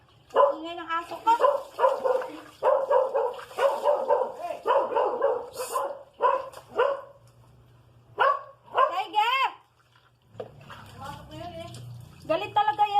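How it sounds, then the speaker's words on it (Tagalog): A pet dog named Tiger barks repeatedly in loud, agitated bursts near the microphone, with pauses between volleys and some yips, while a person talks at points in between. "Ingay ng aso ko."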